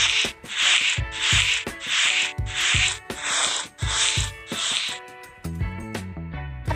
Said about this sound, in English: Rub it with cotton.